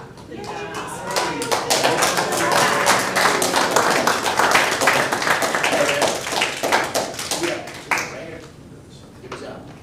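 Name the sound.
audience applause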